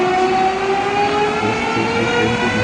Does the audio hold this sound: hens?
no